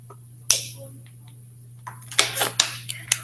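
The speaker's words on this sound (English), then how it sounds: "Sorry, my water bottle is so noisy." A noisy water bottle being drunk from: sharp clicks and crinkly, plasticky crackles, one early snap followed by a cluster of quick taps and rustles near the mic.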